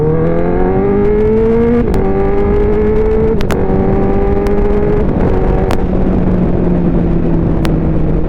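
A Honda CBR 1000 SP racing-spec motorcycle fitted with Ohlins suspension, Brembo brakes and OZ wheels accelerates hard through several gears, its loud close engine note climbing and briefly dropping at each shift, with sharp clicks over the continuous roar.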